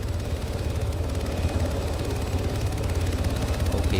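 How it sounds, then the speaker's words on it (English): A helicopter in the ARMA III video game drones continuously, a dense, even rotor and engine roar holding steady close by with no voices. "Everyone into this chopper, bail out."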